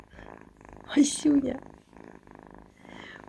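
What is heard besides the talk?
cat purring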